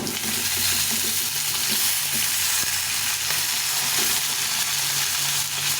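Eggplant and mixed vegetables fry in a pan with a loud, constant sizzle up close, while a spatula stirs them with soft periodic scrapes and clicks. No one speaks.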